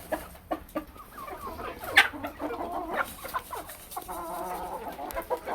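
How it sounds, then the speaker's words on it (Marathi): Free-range country chickens cluck and chatter close by while eating scattered feed, with short repeated calls overlapping at an uneven rhythm and a sharp squawk now and then. "आणि आता कोंबड्या सगळ्या खात्याने तुम्ही बघू शकतात"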